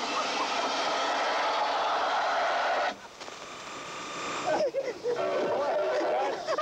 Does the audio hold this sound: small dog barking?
no